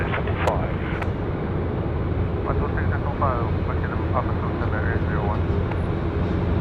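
An airplane at Sydney Airport gives a steady, broad engine roar that fills the whole clip at constant loudness, with people talking faintly over it.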